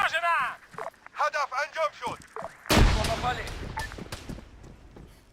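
Arma 3 combat plays out as a voice speaks briefly, then a sharp, heavy grenade blast hits and rumbles away, followed by scattered distant gunshots.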